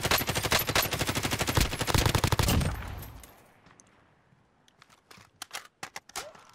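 A long burst of rapid automatic gunfire in the Warzone video game, loud and close for about three seconds, then a quiet gap before scattered single shots and clicks.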